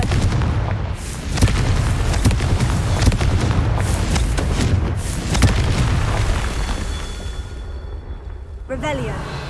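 Confringo blast spells explode in Hogwarts Legacy, loud booming bursts repeating over a sustained rumbling din, with voices talking and a brief chiming effect near the end.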